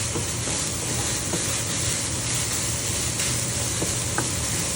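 Ground beef sizzles and fries in a pan, a loud steady hiss that carries on throughout, with faint occasional scrapes of stirring and no talking.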